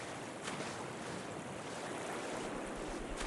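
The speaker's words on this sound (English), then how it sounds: "The surf machine." A surf machine in the Yeeps game water park churns out steady broadband rushing water, like constant waves, even and continuous with no talk.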